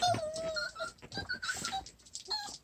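Puppies whimpering in a home during family worship, giving a string of high, thin whines and yelps in separate bursts, fairly close and with no talk over them.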